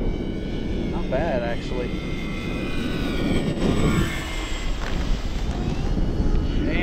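A Dynam P-61 Black Widow 1500mm 4S electric RC warbird makes a windy touch-and-go pass, its steady motor whine droning continuously under wind noise while someone speaks briefly nearby.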